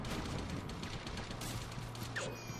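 Dense, continuous gunfire rattles through a Gotham City Impostors multiplayer match, with overlapping shots and crashes forming a steady fusillade that stays loud for the whole stretch.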